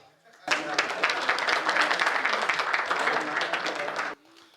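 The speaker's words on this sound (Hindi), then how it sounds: "आपके कानों में आकर कहूं कि ताली बजाओ?" An audience at a Hindi comedy poetry gathering bursts into applause, a sudden loud wave of close, dense clapping that holds steady for several seconds, then cuts off abruptly.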